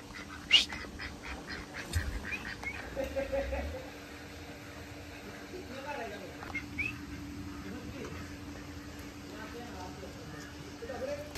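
A duck quacks in short bursts, with one sharp call near the start, while several people talk loudly over it and around it.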